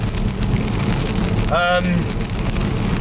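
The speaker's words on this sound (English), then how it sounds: "it is raining hard" Heavy rain pouring down outside while someone sits in a car, a dense steady roar of drops drumming on the roof with a brief squeal partway through.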